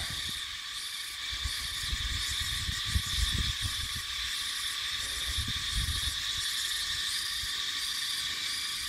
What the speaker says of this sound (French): toujours les cigales.